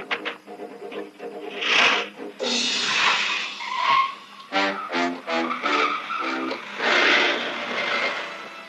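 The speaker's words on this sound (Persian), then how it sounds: "ماشین شماره 1221 63 همدان شفرلت مدل 64 رنگ مشکی به طرف مغرب در حرکت است" Engine and tire noise from a black 1964 Chevrolet driving, with rising and falling revs and screeches, loud and close, mixed with voices and music from an old Iranian film.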